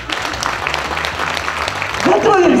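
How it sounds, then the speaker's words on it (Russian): Applause from a concert audience after a duet, steady clapping filling the room, with a voice rising over it near the end. "Аплодисменты"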